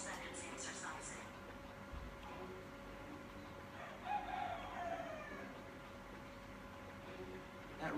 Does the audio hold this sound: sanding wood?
no